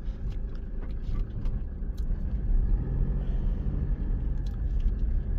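Toyota Fortuner 3.0 D4D diesel engine running, a steady low rumble with a coarse diesel clatter heard from inside the SUV, continuous and moderately loud.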